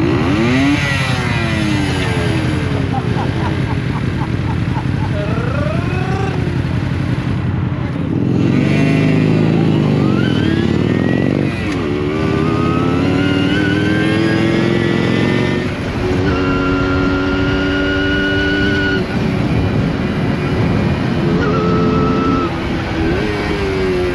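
A Tomos 14 motorcycle revs and accelerates repeatedly up close, its small engine whining up through sweeping pitch rises and drops over a steady loud drone, with no clear talk.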